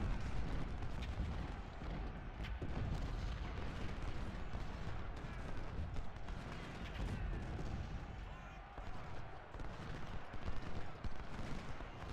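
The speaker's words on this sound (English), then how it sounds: "Thought that volley was going to finish off Wainwright's battery over there" Artillery volleys from a Civil War battle in Ultimate General: Civil War roll on as continuous, dense cannon and musket fire with no clear breaks.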